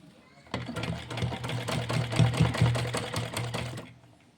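A sewing machine stitches a cloth wrestling langot in one continuous run of about three seconds, loud and close, starting and stopping abruptly with no voice over it.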